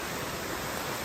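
A brook near Kent Pond on the Appalachian Trail gives a steady, close broadband rush of flowing water, heard alone without any voices.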